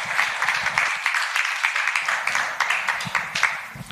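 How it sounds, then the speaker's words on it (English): Audience applause for the chairman's entrance at an Indian Poker League launch event, a steady wash of many hands clapping that carries on for the whole stretch, with a few louder individual claps near the front. "Can we have a round of applause, please?"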